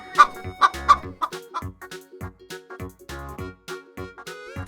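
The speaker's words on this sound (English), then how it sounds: "Can you flap your wings like a chicken?" Repeated chicken clucks in a quick, uneven series, loud and close, with several sharp accented calls at the start, then steadier clucking with no talk over it.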